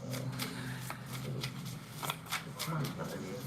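Animal spirit oracle cards being shuffled, a steady papery riffle and flutter with small bursts, while a voice murmurs and a low hum sits underneath.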